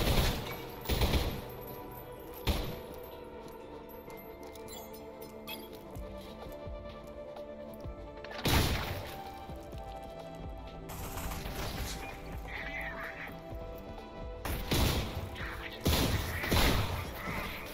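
Gunfire from weapons in the Selaco video game crackles in scattered bursts, with sharp rapid volleys and clinks over a quieter game background, no talk.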